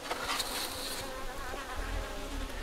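Honeybees in a glass-walled observation hive at an organic (Bioland) apiary, producing a steady, dense, close-up buzzing drone that fills the whole stretch without pause.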